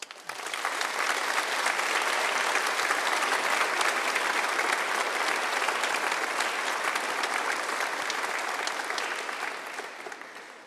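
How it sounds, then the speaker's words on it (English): A graduation ceremony audience claps in sustained, dense applause that rises quickly, holds loud and even for several seconds, then tapers off near the end. "give a round of applause to all of those who have supported you individually during your studies"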